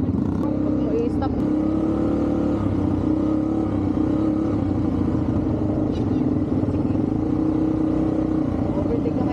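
An ATV engine drones and revs steadily on a resort trail at Laiya, Batangas, loud and close throughout, with people talking over the motor noise.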